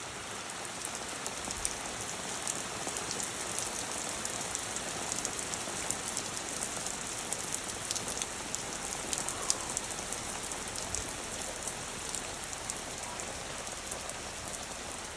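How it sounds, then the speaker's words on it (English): Steady rain with possible hail pattering on a surface outside a cottage on a cold October day, a dense, even hiss of drops holding at the same level throughout with no voices. "I think it's starting to hail."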